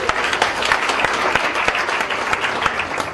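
Dense, continuous audience applause at the KenyaIGF 2018 forum, thanking the panel after their session, many hands clapping at once in a hall, loud and steady throughout.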